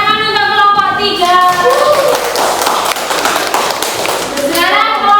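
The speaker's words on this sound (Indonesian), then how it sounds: "tepuk tangan untuk kelompok 3" A classroom of children applauds for group 3, a dense wash of clapping and kids' voices lasting throughout, loud and close, with a teacher's voice at the start and end.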